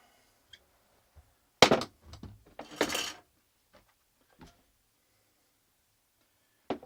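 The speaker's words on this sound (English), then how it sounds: "if you cross them wires, hold it with your pliers and nip it up tight" Pliers nipping and cutting wire for a mole trap spring, a few sharp close snips and metallic clicks with a brief rustle, separated by quiet gaps.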